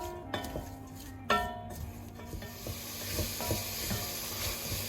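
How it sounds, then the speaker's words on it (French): Carrots, onion and leek sweat in melting butter in a pan, giving a soft, steady sizzle with a few clinks of a utensil against the pot and some stirring scrapes. "j'y mets les carottes, l'oignon et le poireau et je vais faire suer pendant environ 5 minutes"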